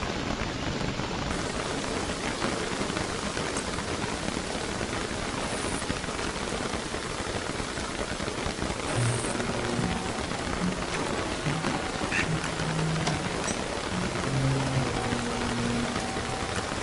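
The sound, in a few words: rain in the video game Don't Starve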